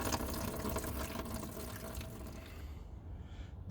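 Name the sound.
washer fluid draining from Audi A3 washer fluid tank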